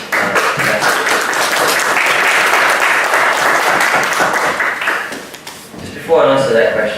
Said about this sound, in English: Let's give her another warm applause.